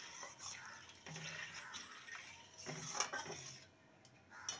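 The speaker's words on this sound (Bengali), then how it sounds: "ভালো করে নেড়ে নেব।" Milk mixed with powdered milk and cardamom is stirred in a pot, giving faint, soft scraping and light utensil clinks against the metal that come and go at low volume.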